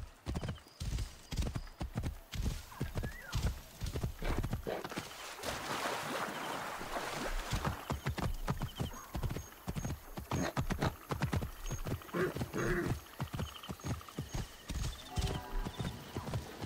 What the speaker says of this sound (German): Komm, Pferd, wir müssen außen rum reiten.